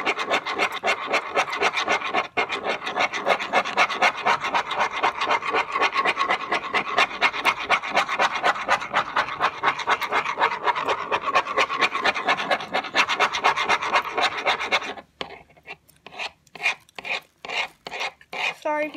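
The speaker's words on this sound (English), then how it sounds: "If you can hear the scraping against my desk, because that's this like thing I'm using to mix" A mixing tool scrapes against a desk while slime is mixed, giving a steady, rapid rasping scratch that runs close and continuous, then breaks into slower separate strokes near the end.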